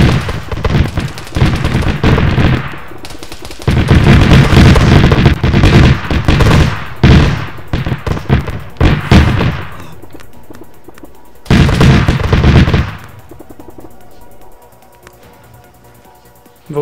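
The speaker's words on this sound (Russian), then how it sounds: "Твоя херня стреляет." Heavy bursts of automatic gunfire and blasts in the military shooter ArmA 3, loud and dense in long volleys, pausing briefly, then another loud burst before the firing fades to a quiet, distant ambience.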